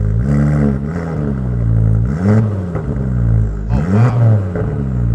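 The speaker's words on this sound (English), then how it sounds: "Just give it a light rev." A 340 BHP Ford Focus ST500, a Mk2 hatchback, revs up loudly and close in several rising and falling pulls, the engine note swelling and dropping in steady waves with no talk over it.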